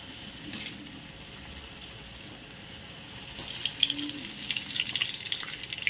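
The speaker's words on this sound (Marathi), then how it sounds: "आता मी तळायला घेते." Puris deep-frying in hot oil in a home kitchen, a soft steady sizzle that grows busier and louder in the second half, with small bubbling crackles and no voices.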